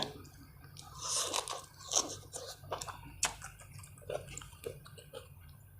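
Someone eats spicy green papaya salad made with nearly ripe papaya, giving repeated close, crisp crunching bites and wet chewing at a low level, with no talk.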